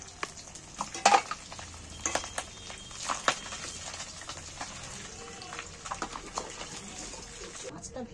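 Pieces of katla fish frying in hot oil in a pan, with a steady crackling sizzle and sharp clinks of stirring utensils, heard under a person talking.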